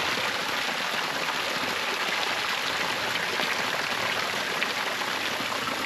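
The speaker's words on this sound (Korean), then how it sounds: "물방울 있죠?" Water droplets and a flowing stream in a mountain village make a steady, soft broadband rush, faint and unbroken from start to finish.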